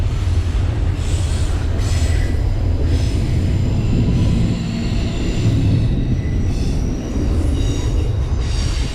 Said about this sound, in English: Train coming by right above me.